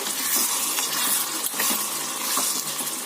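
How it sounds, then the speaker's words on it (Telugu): Tomatoes simmering in a pan for curry over medium flame, a steady close sizzle and bubbling hiss with soft scraping as the mixture is stirred now and then. "టమోటాస్ని బాగా ఉడకనియండి మధ్య మధ్యలో కలుపుతూ ఉండండి"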